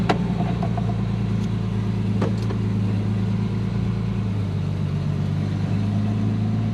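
A family van's engine idles steadily just after starting, a low, even hum close by with a few faint clicks early on and no talk.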